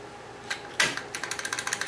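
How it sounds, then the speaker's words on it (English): A restored IBM Model M keyboard from December 1989 is typed on, with a few scattered keystrokes followed by a quick, even run of crisp, close clacks. "the noise this keyboard is making is certainly a whole lot less than the noise my keyboard makes"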